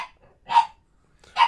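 Pug dogs bark in short sharp yaps, three barks spaced a moment apart with quiet between them, fairly close and clear with no talk over them.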